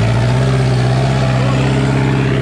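A Sonalika DI-750 III tractor pulls a harrow through a field, its diesel engine droning loud and steady at close range with a deep, continuous rumble.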